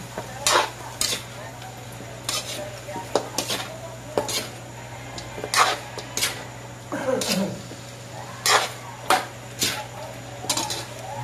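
Chicken feet adobo gets stirred in a pot, a metal spoon scraping and clanking against the sides in about a dozen sharp, irregular knocks over a low steady hum, with a faint simmer underneath.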